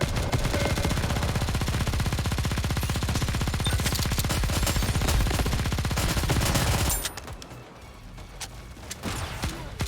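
Rapid automatic gunfire rattles continuously and loud in the shooter game Nikke: The Goddess of Victory, a dense machine-gun stream for about seven seconds before dropping to scattered softer shots and effects.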